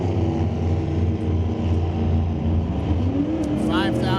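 Two Camaro Roadster drag race cars, a 1968 and a 1969, launch together in a loud, sustained engine roar that builds in pitch near the end, with someone talking over it.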